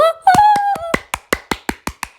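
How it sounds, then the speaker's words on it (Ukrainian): A short sung voiced tone gives way to about eight crisp, evenly spaced hand claps, loud and close in a studio, each one decaying quickly. "Оплески в студію"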